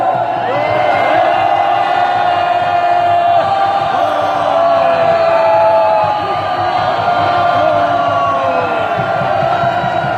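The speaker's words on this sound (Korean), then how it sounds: "크게 경례에 함성 한번 올려주시기 바랍니다" A large crowd at a Korean political rally shouts and cheers continuously, loud and sustained, with many voices rising together in a roaring chant.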